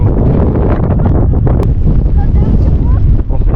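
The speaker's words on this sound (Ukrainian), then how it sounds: "Дуже сильний вітер." Strong mountain wind in Bavaria roars and buffets loudly and close, a heavy rushing noise with gusty turbulence that never lets up.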